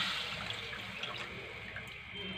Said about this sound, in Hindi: इसमें हमने 2 गिलास पानी शामिल कर लिया है